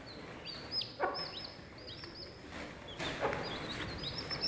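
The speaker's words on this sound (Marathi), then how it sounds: "1 दिवसाचं पिल्लू आहे" Day-old village chicks peep in scattered, high, thin chirps close by, with a few louder calls among them, as they gather under a hen's wing.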